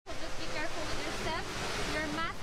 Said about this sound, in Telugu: ఇది మనకు వచ్చేసి వాటర్ ఫాల్